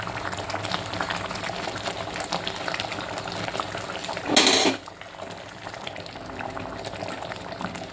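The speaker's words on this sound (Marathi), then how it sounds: "डाळीला चांगली उकळी आली आहे" Dal boiling in a pot, a continuous close bubbling and gurgling that runs throughout, broken once by a brief louder burst of hiss or clatter before settling back to steady boiling.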